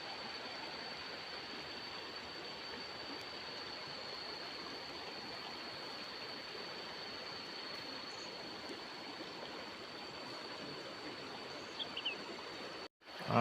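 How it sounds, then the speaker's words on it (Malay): The Lawai river flows in a steady, even rush of water, a constant low stream murmur with no talk, faintly disturbed near the end by a brief handling bump. "Ini sungai, mandi sungai guys pagi ini"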